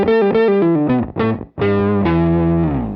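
Electric guitar played through a Beetronics Zzombee Filtremulator pedal with the low octave blended in and the tone rolled back, a thick, fuzzy, distorted phrase of short picked notes ending in a sustained ringing chord, loud and alone.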